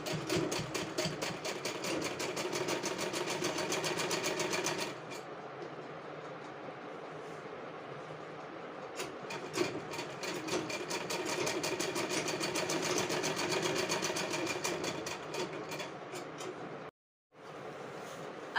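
Sewing machine running in sustained bursts as it stitches fabric pieces together for a girl's top at a half-inch seam, a steady mechanical whir with a brief pause midway and a short stop near the end.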